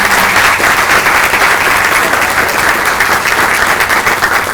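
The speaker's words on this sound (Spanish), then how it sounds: "un gran aplauso para Jacqueline" Loud, dense applause from an audience fills the space steadily, honoring Jacqueline at a university engineering-and-society lecture; no voices break through.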